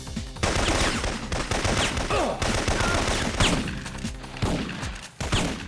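Dense bursts of PK machine-gun fire rattle almost without pause in a Syphon Filter firefight, loud and close, with overlapping volleys and thumps and a brief lull near the end.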